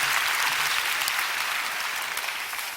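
Sustained applause fills a Korean church prayer meeting, a dense, steady wash of many hands clapping throughout, loud and close, with no voices over it.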